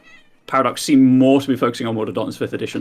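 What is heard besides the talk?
cat meowing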